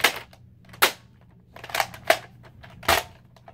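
A toy Nerf pistol styled like a Glock is handled and fired. Four sharp, close pops ring out at irregular intervals, with quiet clicks between them.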